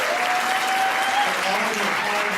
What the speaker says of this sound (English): let's give ourselves a round of applause right now